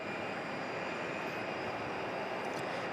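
WestJet and Aeromexico jets at Phoenix Sky Harbor International Airport produce a continuous, fairly faint roar of engines from a distance.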